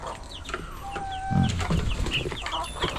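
Darag native chickens clucking in a coop, with repeated close clucks and short calls over a busy background of other birds, and no talking.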